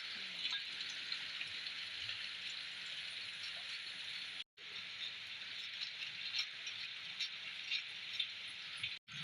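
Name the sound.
light drizzle rain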